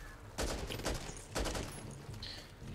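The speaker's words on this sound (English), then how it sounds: "That is an AA-12" AA-12 automatic shotgun firing in the zombie shooter Back 4 Blood, two heavy booming bursts about a second apart, close and loud over a steady game background.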